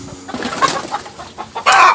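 Chickens cluck and chatter close by beside an automatic water-powered coop door opener, in several short bursts that end in a louder, sustained squawk.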